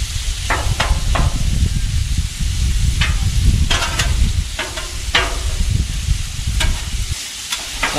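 Italian sausage frying in a pan with onions and butter sizzles steadily throughout, with repeated scraping and stirring clatters from a utensil, close and fairly loud, no voices.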